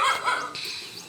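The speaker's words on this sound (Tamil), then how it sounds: "பெரிய நாய் வந்துச்சு." A big dog barks loudly a couple of times in quick succession, close by, with no talking over it.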